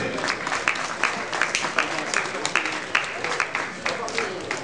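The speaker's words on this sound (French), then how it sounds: "on peut applaudir" Audience at a wine fair applauding, a moderate burst of crowd clapping with distinct individual claps, while a voice carries on over it.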